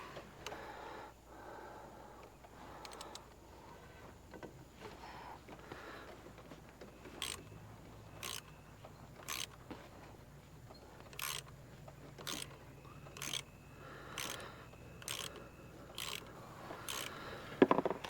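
A ratchet wrench clicks steadily while backing out an 8 millimeter bolt on a 2007 Jeep Liberty 3.7L, a quiet run of evenly spaced ticks heard close up with faint scraping in between.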